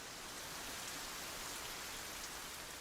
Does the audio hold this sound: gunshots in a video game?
no